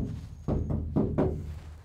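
Three dull, muffled thuds spaced about a quarter second apart, close by, knuckles knocking on the insulated metal roof of a Toyota Land Cruiser HZJ78.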